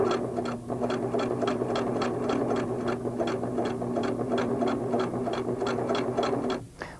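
A Singer sewing machine stitching in the ditch along a quilt border. It runs as a steady mechanical hum under a fast, even ticking of the needle for several seconds, then stops briefly near the end.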